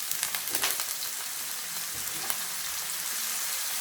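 Vinegar and spices such as paprika and coriander powder hit a hot pan for masala pasta, giving a broad hissing sizzle that flares loudest at the start and then settles into a steady crackle.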